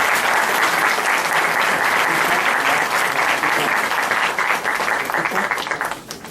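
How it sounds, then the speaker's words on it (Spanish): Sustained, dense applause from a seminar audience fills the room at steady loudness, a continuous wash of many hands clapping that only begins to thin in the final moment. "les voy a pedir un fuerte aplauso para Enrique"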